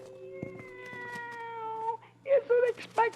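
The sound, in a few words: cat meowing in old time radio show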